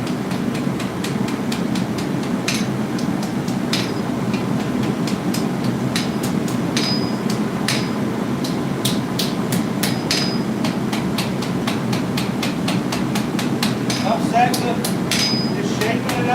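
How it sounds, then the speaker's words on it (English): A hammer strikes a spoon blank on an anvil at a forge in a steady series of sharp, ringing blows, close and loud over a constant roar of background noise. "kind of hammering down on the edge here so we get a nice thick edge"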